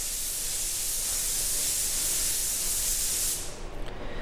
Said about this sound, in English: I'm putting on a very light coat of Gem Ruby.